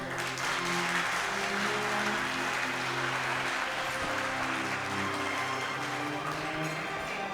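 Loud, sustained applause fills a hall at an Armenian community gathering, with steady dense clapping under music or murmuring voices for the whole stretch.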